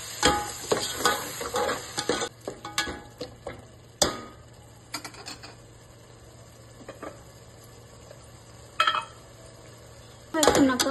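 A spoon stirs a cup of curd into egg biryani masala in a pan with mint and coriander, giving scattered scraping and clinking strokes, loudest in the first seconds and again near the end, with quiet gaps between.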